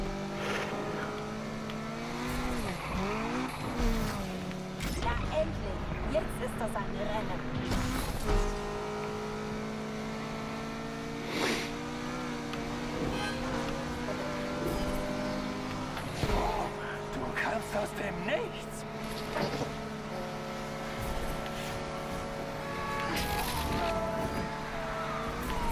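Need for Speed Unbound race with car engines droning and shifting pitch through revs and gear changes, steady and loud for the whole stretch, with someone talking over the game sound.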